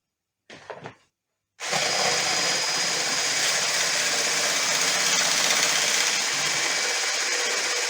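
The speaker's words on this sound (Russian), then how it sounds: "Кладем 3 яйца и взбиваем." After a short burst of clatter and a pause, an electric hand mixer whirs steadily and loudly, a constant high-pitched motor drone beating eggs in a bowl.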